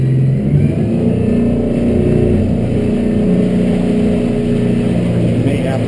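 A 24-foot Edge Sport boat's outboard motor drones steadily and loudly up close as the boat picks up speed on the water, a constant engine roar with no talk.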